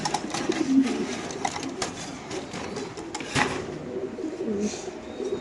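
A female racer pigeon coos in low, throaty murmurs, handled up close amid soft rustling and clicking noises, moderately quiet with no clear talk.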